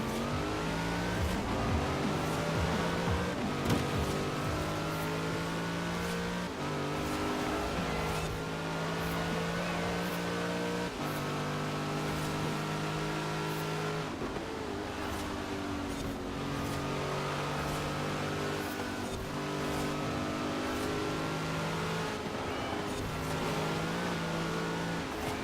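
A modern muscle car at S1 900 class races in Forza Horizon 4, its engine roaring steadily through rising and falling gear shifts across the whole stretch, loud and continuous with no talk over it.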